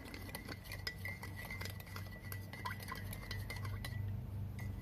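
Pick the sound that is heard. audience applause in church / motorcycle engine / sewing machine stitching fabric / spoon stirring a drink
spoon stirring a drink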